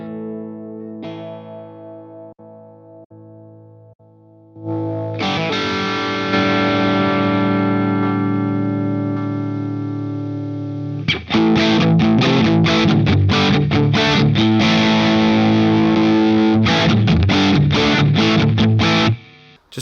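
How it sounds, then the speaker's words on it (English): A guitar played through a Strymon Iridium pedal set to a high-gain Marshall amp tone: a single sustained distorted chord rings out, then fast, loud chugging riffs with dense saturated harmonics. "now I'm going to make a Marshall sound really quick"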